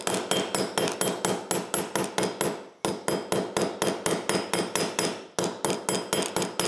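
Rivets for a knife handle being hammered together: quick, sharp metallic blows struck in three steady runs close by, with brief pauses between runs and no voices.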